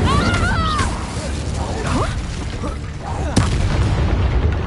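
The Incendio fire spell in Hogwarts Legacy goes off with booming, crackling bursts and whooshing magical tones amid combat noise, while a voice speaks over it.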